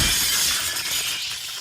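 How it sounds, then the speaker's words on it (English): A light is smashed with a rifle butt, glass bursting into a loud, bright shatter that fades over a second and a half, close and alone. "running for the light, smashing it with the butt of the rifle in her hand"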